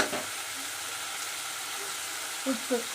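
Vegetables sauté in a pan, giving a soft, steady sizzle that stays faint and even throughout. A couple of brief low clunks come near the end.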